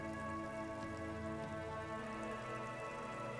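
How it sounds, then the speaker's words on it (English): Rain dripping and falling in the video game Disco Elysium, a constant dense patter of drops over a low steady hum, even and unbroken throughout. "Rain drips from the eaves and floods the gutters, washing the filth away."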